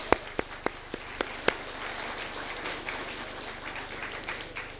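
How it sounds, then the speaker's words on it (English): A commencement audience applauds the Thames International College class of 2021. A few sharp, separate claps open, then a steady, moderately distant wash of applause carries on without voices. "Let us all give them a round of applause."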